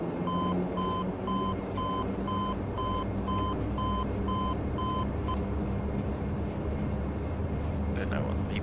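A repeating electronic beep tone sounds in evenly spaced pulses in the cockpit of a Majestic Dash 8 Q400 in a flight simulator, over a constant engine and cabin drone, then stops partway through.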